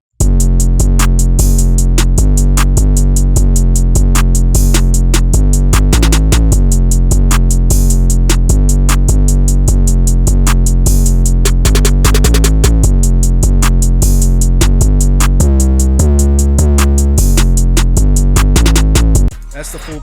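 Complete hip hop beat plays loud and continuous, heavy sustained bass under fast ticking hi-hats and a repeating synth melody, with a brief drop in the final moments.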